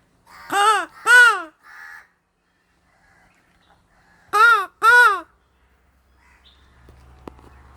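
Two pairs of loud, harsh crow caws ring out close by, separated by a few seconds of quiet, with a faint low rumble toward the end.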